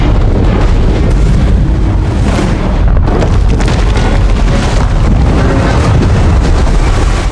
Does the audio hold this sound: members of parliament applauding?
no